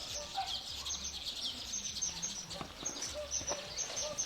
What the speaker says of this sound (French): il y a les oiseaux béliers là, qui font leur nid dans les bambous